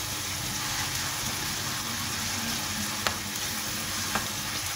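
Liver for Alexandrian liver sandwiches fries in an oiled pan with a steady, close sizzle, broken by a couple of sharp scrapes as it is stirred together.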